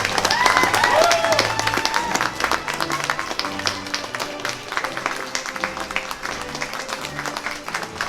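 Sustained applause from a large audience at a high school graduation ceremony, steady dense clapping that stays loud throughout and eases slightly toward the end, with a brief tonal sound early on.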